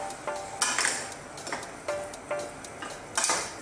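Pork and bottle gourd being stirred in a pan, a spoon or spatula knocking and scraping against the metal in a string of distinct clinks and taps, close and fairly loud, with no talking.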